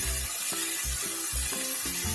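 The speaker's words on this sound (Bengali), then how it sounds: "এখন মুড়ি খাওয়ার জন্য এখন আমি আলুগুলোকে ভেজে নিচ্ছি।" Sliced potatoes sizzling in a hot pan, with a rhythmic series of stirring and scraping strokes breaking up the steady frying hiss, close and fairly quiet.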